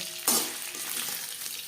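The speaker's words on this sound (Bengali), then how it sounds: "যেহেতু জ্যান্ত মাছ বলে আমি হালকা করেই ভেজে নিলাম" Live shing fish fries lightly in hot oil, a sudden sputtering sizzle that flares briefly and then holds as a steady, moderate frying hiss.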